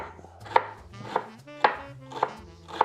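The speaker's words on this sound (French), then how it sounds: "c'est vrai que ça marche bien de couper l'oignon comme ça" A knife chops an onion on a board, with five crisp, distinct knocks at a fairly steady pace, close and clean, with no talking.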